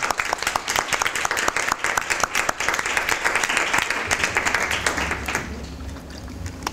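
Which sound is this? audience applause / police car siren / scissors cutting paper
audience applause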